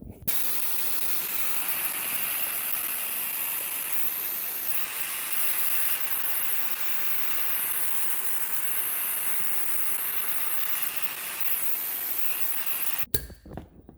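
A small vacuum sucks debris from the cowl vents of a 2011 Toyota RAV4 with a loud, close, steady hiss that runs unbroken for about thirteen seconds before cutting off abruptly.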